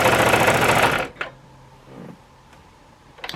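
Sewing machine stitching the binding on a quilt, with a loud, rapid mechanical whir for about a second, then faint clicks and creaks as it stops.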